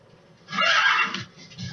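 A horse whinnies loudly and close in the game Metal Gear Solid V, one drawn-out neigh rising then fading over quiet game background.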